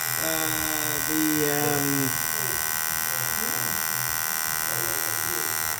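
Tattoo machine needle buzzing steadily on skin, a constant close electric whine throughout, with faint talking over its first couple of seconds.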